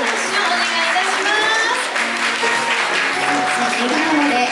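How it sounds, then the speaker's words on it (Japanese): Sustained applause from a crowd gathered at a departure ceremony for a decorated train in Yanagawa, Japan, steady and dense clapping close by for several seconds without pause. "大きな拍手をお願いいたします"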